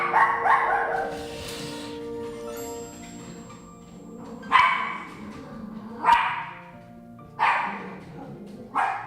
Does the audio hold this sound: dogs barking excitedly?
yes